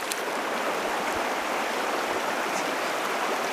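The River Leven's water rushes over stones in a steady, unbroken hiss of flowing current, close by, with no talk.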